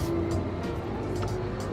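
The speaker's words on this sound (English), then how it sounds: "The garbage truck is passing by." A garbage truck passes by outdoors, a steady low engine rumble with broad road noise that holds fairly level throughout.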